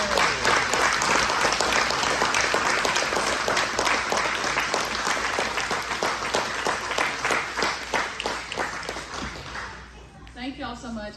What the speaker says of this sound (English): if all grandparents can stand up, and let's just applaud.